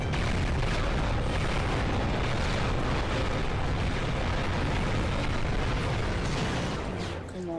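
Continuous roaring missile explosions and heavy blasts during a Ratchet & Clank ship battle, dense and loud throughout with no speech.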